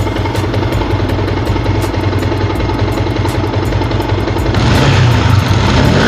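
A four-year-old Yamaha Sniper 150 motorcycle engine idles steadily up close, a continuous low throbbing rumble that swells slightly louder near the end, with no talking.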